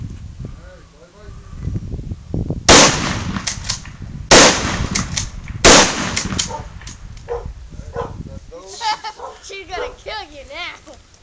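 Three sharp, loud gunshots crack outdoors as a flat-screen TV is shot, spaced a second or two apart, amid people talking and a dog barking.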